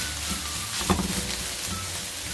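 Garlic and ginger frying in a pan of oil while cooking okra, a soft, steady sizzle with a brief stir or clink, faint and close.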